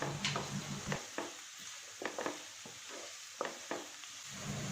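Diced carrot is stirred into prawn fried rice in a pan: a soft sizzle under a series of quiet, evenly spaced scrapes of the spatula, close by and with no talking.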